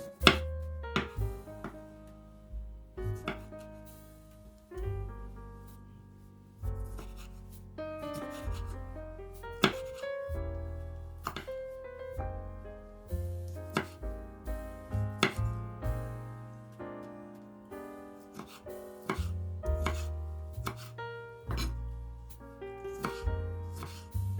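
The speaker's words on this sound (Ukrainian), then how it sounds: "Один помідор середнього розміру ріжу середнім кубиком." A knife chops a medium tomato into cubes on a cutting board in quick, repeated strokes, soft thuds and scrapes in an uneven rhythm, close by and fairly quiet.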